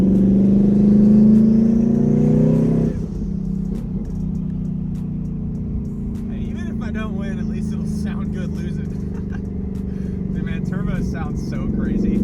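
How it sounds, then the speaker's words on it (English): A 1000hp turbocharged drag car driven on a street, its engine roaring loud and close, then the pitch drops sharply as the turbo dumps, followed by a steady droning cruise with fluttering turbo chatter and a person talking over it. "Turbo sounds so crazy, especially when it's dumped right under your butt."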